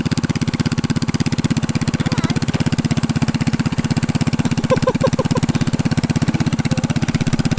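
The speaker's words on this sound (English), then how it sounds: "I can't hear over the engine." A small engine on a mini tank trike runs steadily and loudly throughout, a low chugging drone with faint voices briefly audible over it.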